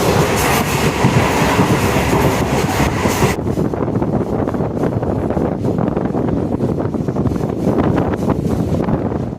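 A train rumbles steadily along the rails at speed through the Dooars near the Nepal-Bhutan foothills, with continuous loud clatter and wind rush; the bright high hiss drops away partway through.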